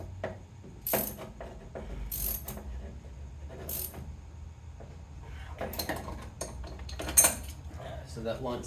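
Metal wrench clicks and clinks against an AN fuel line fitting being tightened on a 1965 Mustang, a few sharp ratcheting bursts spaced irregularly, close up and fairly quiet, with no talking.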